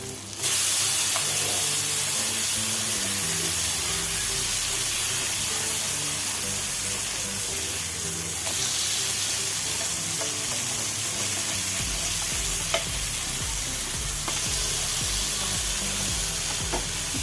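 Pomfret fish frying in a pan of oil with curry leaves gives a steady, loud sizzle and crackle that runs the whole way with no pauses, close up and with no one talking.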